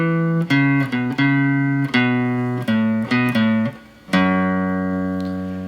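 A slow, deliberate guitar lick in a gospel style, about a dozen clean plucked notes with sustained harmonics, ending on a low ringing note on the sixth string that decays alone.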